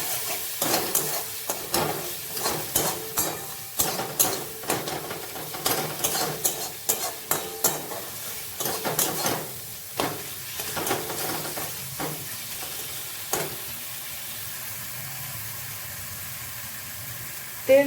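A spoon stirs spice masala loosened with a little water in a pan, scraping in repeated close strokes over a soft background sizzle, the strokes thinning out toward the end.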